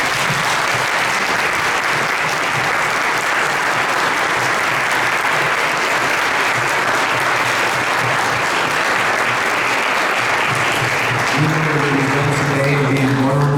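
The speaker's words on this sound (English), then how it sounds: "If y'all can give them a round of applause." Audience applauding panelists as they stand at a panel event, a loud, dense, sustained round of clapping from a sizable crowd, with a voice starting to speak near the end.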